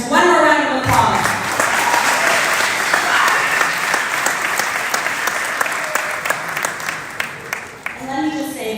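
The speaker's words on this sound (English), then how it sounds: "I think that deserves one more round of applause" A large audience applauds at a Mississauga community gathering, steady dense clapping that slowly tapers with individual claps standing out, with speech at the start and end.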